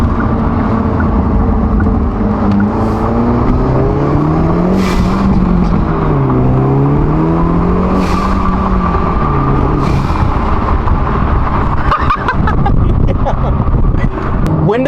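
A 2024 Hyundai Elantra N fitted with an aftermarket intake and blow-off valve revs loudly with the windows up, its engine note rising and falling in repeated sweeps, with crackles and whooshes near the end.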